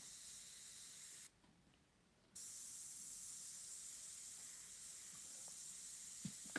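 An airbrush sprays paint for a macro-style painting of a cat's eye and fur, giving a steady, close, airy hiss that stops for about a second and then resumes just as evenly.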